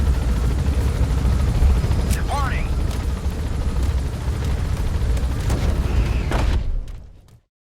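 Helicopter rotor and engine in the video game Metal Gear Solid V: The Phantom Pain, a loud steady churn with brief whooshing sweeps, fading out at the end.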